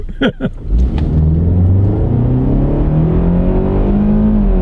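A car with an 8-speed transmission accelerates hard on an open road, its engine note climbing loudly and steadily close by, with a brief voice at the start.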